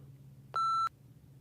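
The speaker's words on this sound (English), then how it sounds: "the phone in the kitchen just kept beeping" A single electronic beep from a kitchen telephone left off its receiver, clear and steady for about a third of a second, over a quiet background hum.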